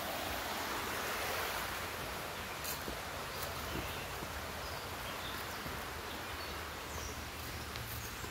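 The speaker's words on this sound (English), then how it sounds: "Here's a little spillway that comes in. It comes into the creek." Water rushes steadily over rocks in a creek along a park horse trail, a dense, continuous wash that stays loud and unbroken throughout, with no voices.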